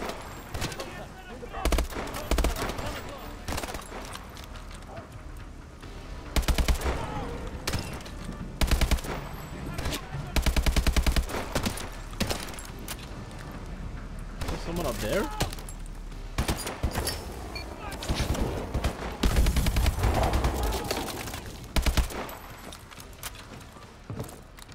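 Gunfire from a gun in the video game Call of Duty Advanced Warfare, scattered bursts and single shots amid battle noise, some close and loud, others quieter, spread throughout with no talk.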